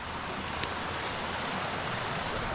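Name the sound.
fast-flowing creek beside a winter campsite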